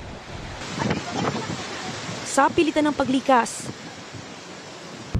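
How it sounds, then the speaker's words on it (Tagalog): Strong wind and steady rain from Super Typhoon Ofel lashing the town of Santa Ana, a constant roaring rush that fills the whole scene while a person speaks over it. "malamang makarindi na ang malakas na hampas ng hangin habang walang patid ang ulan"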